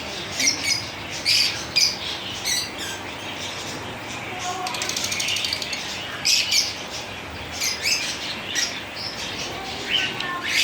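Australian parrots kept in an aviary squawk and chirp in sharp, scattered bursts, fairly close, with faint background noise between calls and no clear talking.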